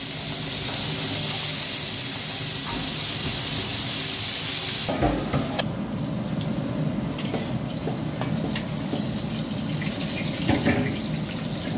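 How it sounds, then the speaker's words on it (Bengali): Prawns coated in turmeric fry in smoking-hot oil with a loud, dense, continuous sizzle, close by, with occasional sharp spatters and clinks of stirring partway through. "এবারে আমি চিংড়ি মাছটা ভেজে নিচ্ছি।"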